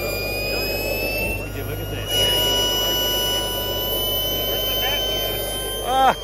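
A powerful jet engine fitted to a giant model B2 bomber roars steadily and loudly with a high whine, under a voice speaking.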